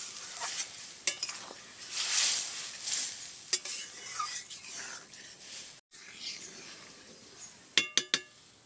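Chana dal cooked with fried coconut and chopped coriander is stirred in a hot pan, a steady sizzle running under soft scraping with a few sharp metallic clinks of the spoon near the end.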